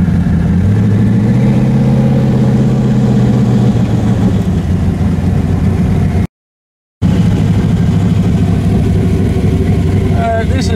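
A twin-turbo Chevrolet S10 pickup with a 355 engine and a 3000 stall converter, cruising along with a steady loud engine drone throughout, interrupted briefly by a short gap, with faint voices mixed in.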